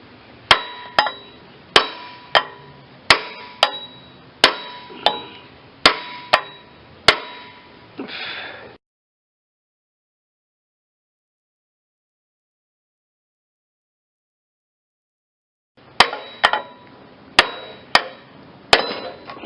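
Hammer taps striking the flywheel of a Briggs & Stratton small engine to knock it loose, a steady run of sharp metallic blows about every second, then a long silence before another quick burst of taps.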